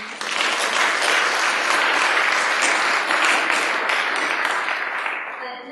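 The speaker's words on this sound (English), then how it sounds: "Can we give them all a round of applause?" Steady audience applause after three presentations at a tech event, a full, even wash of clapping that swells quickly, holds for several seconds and tapers at the end.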